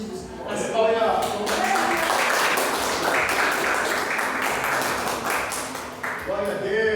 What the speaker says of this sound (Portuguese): As palmas.